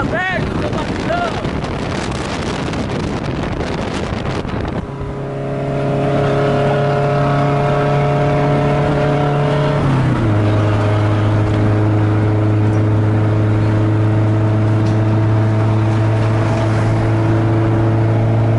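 An old Volkswagen Gol with its hood open runs its engine in a loud, steady drone after a gusty, windy opening, and the pitch holds high before stepping down slightly partway through.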